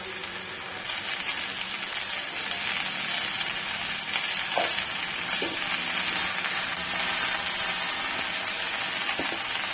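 A vegetable dish frying in a home kitchen pan gives a steady, close sizzle throughout, with a few soft stirring clicks and no speech.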